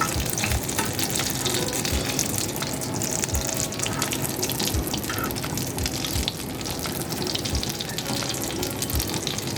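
Chicken shami kababs frying in a pan, a dense, loud, continuous sizzle and crackle with a gushing, watery texture that barely varies over several seconds.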